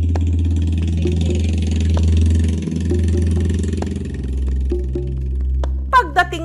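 Motorcycle engine runs steadily on a muddy, flooded rural farm road, a continuous low rumble with shifts in revs, fairly close, with a voice speaking at the end.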